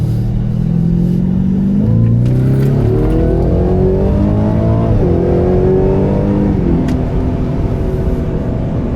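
Road traffic in northern Houston passing steadily, with loud continuous engine rumble and rising and falling revs of cars going by close, no voices.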